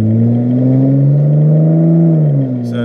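A 2007 Hyundai Tiburon GT with a 4-speed automatic in manual mode launches from a stop, its engine droning loud and steady as revs climb, then easing off briefly at the end.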